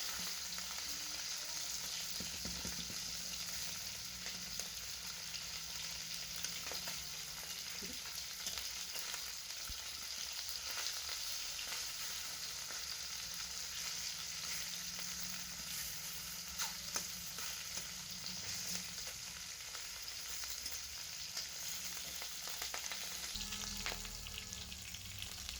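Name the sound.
singi fish pieces frying in a wok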